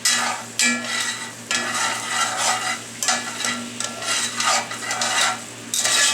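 A pan of beer, onion and mustard sauce with pork chop juices bubbles and reduces over high heat, a loud close hissing sizzle that swells and dips in waves, with occasional scraping of a utensil against the pan.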